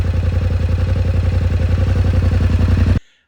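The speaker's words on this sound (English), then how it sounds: "This actually doesn't sound too bad, I've got to be honest. It's a pretty good exhaust for an OEM standard exhaust." A 2026 Yamaha Tenere World Raid on its stock OEM exhaust idles loudly with a steady, even low thrum for about three seconds, then cuts off abruptly into silence.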